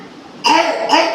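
Two quick, harsh coughs close up, one right after the other, after eating chutney.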